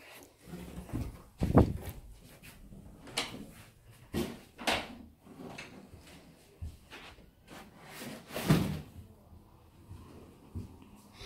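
Drawers in a house are pulled open and pushed shut several times in an irregular sequence of soft thumps and sliding scrapes, fairly quiet, with faint voices and breathing in between.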